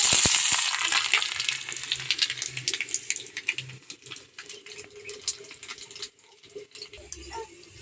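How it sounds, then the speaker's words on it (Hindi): Cumin and garlic hit hot oil with a loud, crackling sizzle that starts strong, then settles into a steady fizzing spatter with occasional pops. "तेल गरम हो गया है तो यहाँ पर डाल दे रहे हैं जीरा और लहसुन"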